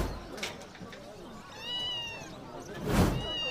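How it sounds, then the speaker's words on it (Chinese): A small kitten gives a few faint high meows, one drawn-out cry in the middle, inside a pet shop while people talk nearby. "好可爱的小猫啊！"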